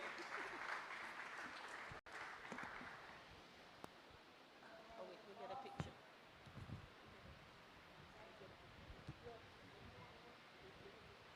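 Faint applause from the audience at the Haiti Tech Summit 2019, a soft wash of clapping that is strongest at first and then thins out, with a voice briefly heard later.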